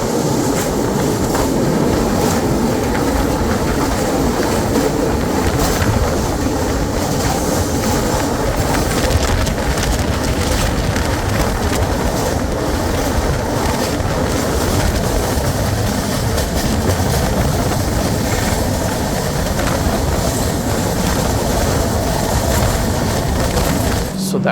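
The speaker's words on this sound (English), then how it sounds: "some interesting high-speed run which our train could possibly do" Dibrugarh express train running at high speed on the New Jalpaiguri to Delhi route, a steady loud rumble and rattle of wheels on rails with continuous clatter throughout, some voices faintly mixed in.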